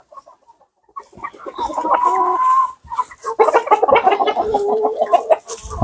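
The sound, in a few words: chickens clucking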